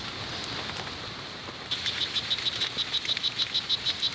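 Tiny bright red poison dart frogs calling in a Costa Rican rainforest: a steady, rapid series of high chirping pulses from about two seconds in, over a constant hiss of insects and damp forest ambience.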